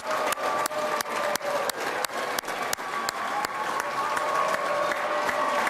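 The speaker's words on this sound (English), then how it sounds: "There's obviously a large and noisy crowd here at the moment." A large, noisy crowd applauding at a Tasmanian state election event in the Grand Chancellor Hotel, with dense sustained clapping and a few sharp percussive clicks cutting through at regular intervals.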